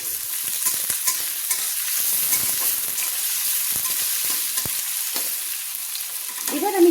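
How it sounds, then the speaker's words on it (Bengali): Carrots stir-fry with other vegetables for street-style veg chowmein, a loud continuous sizzle with repeated spatula scrapes and clacks against the pan, close and without speech. "গাজরটা আগে দিলাম ভেজের মধ্যে। দিয়ে একটু নেড়ে নিলাম।"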